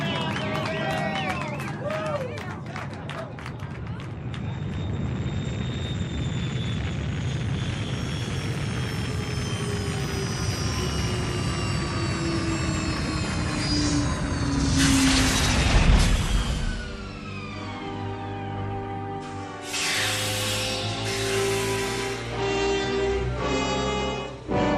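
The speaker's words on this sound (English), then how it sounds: "Those are rocket engines." Roaring rocket engines of a spaceship coming in to land, a radio-drama effect that builds to a loud rushing rumble with a falling pitch sweep, overlaid with voices and bursts of noise.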